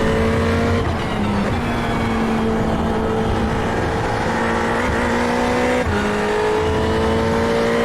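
Ferrari 488 race car engine in iRacing running nearly out of fuel, a loud steady drone with tonal whine that dips and stutters around the second and sixth seconds as it coughs.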